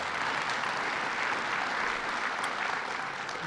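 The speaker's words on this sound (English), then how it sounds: "let's give Phil a round of applause." An audience at a casino press event in a theater claps steadily, a dense, even wash of applause that holds at full strength throughout, with no talk over it.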